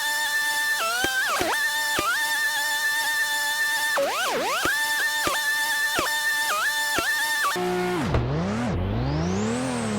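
Volkswagen ID.R electric race car sliding through a drift in the Car Dealership Tycoon game, a steady synthetic whine that dips and rises in pitch through repeated slides, ending in a sweeping swoop, with no one talking.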